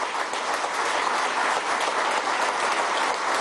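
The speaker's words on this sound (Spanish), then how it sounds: "también hay que darle un aplauso, ¿vale?" A crowd applauds steadily, dense clapping that holds at an even level throughout with no voices over it.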